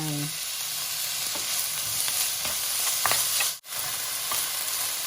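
Rice being stir-fried with sauce in a hot pan for Thai fried rice: a loud, continuous close sizzle with scattered scrapes and taps of the spatula, briefly cutting out near the end.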